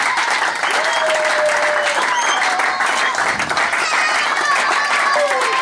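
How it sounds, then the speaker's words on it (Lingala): A church congregation in Makala, Kinshasa, applauds and cheers in dense, continuous clapping with raised voices mixed in. The crowd stays loud from start to finish. "Tu dois acclamer très fort pour le roi des rois"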